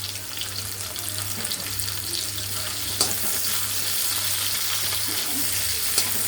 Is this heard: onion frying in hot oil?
yes